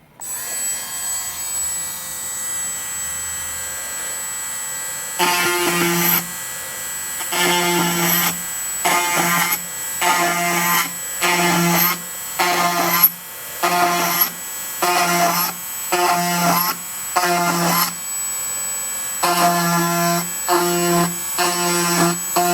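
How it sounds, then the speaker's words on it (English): A small power drill whirs in repeated short bursts, drilling holes in a wood-over-foam RC glider elevator, about a dozen runs with brief pauses between, close and fairly loud over a faint hum. "So the first thing I'm going to do is drill some holes."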